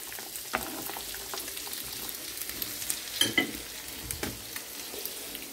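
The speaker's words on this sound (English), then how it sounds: "Stir in the pasta once in a while" Pasta fries gently in a pan with a soft, continuous sizzle while a utensil stirs it, giving a few scraping knocks in the middle of the clip.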